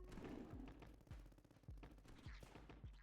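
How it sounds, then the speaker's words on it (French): A naval cannon fires repeatedly in a tower defense video game, giving a series of sharp, booming shots roughly every half second amid busy battle noise, with no talk. "le canon de marine continue de taper"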